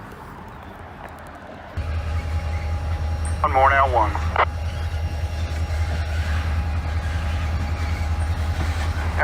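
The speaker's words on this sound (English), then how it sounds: "train's getting ready to back across the road here." Freight train backing slowly across a road crossing, a steady low diesel rumble throughout with a faint horn-like tone and squeal, while someone speaks briefly nearby.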